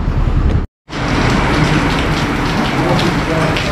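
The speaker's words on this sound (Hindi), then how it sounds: "बाहर लगी है दोस्तों बहुत बुरी तरह से बारिश।" Heavy rain pours down steadily in a dense, loud hiss, broken by one brief silent gap early on.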